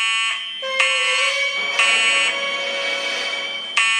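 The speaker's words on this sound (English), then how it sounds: "the fire alarm just rang on" A fire alarm rings at a Chuck E. Cheese's family restaurant, a loud electronic tone whose pitch steps and restarts several times across the clip, with no talking.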